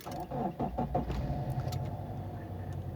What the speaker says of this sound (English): It's always a pleasure when the car starts.